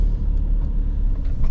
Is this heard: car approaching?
yes